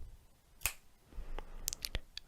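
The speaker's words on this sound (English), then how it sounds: "when I snap my fingers, the trick actually goes back in time 15 seconds" Sharp finger snaps during a close-up card trick, one crisp snap followed a moment later by a quick cluster of several more, dry and near against a quiet background.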